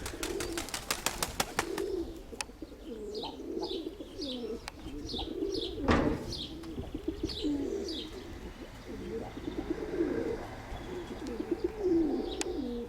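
Young pigeons kept for show and flight, giving soft repeated coos and chirps at close range, with a sharp flutter-like burst near the middle and a few clicks early on.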